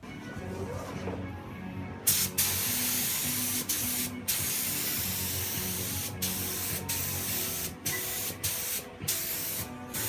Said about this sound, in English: 3 more coats of primer, and we're going to put a very light guide coat on it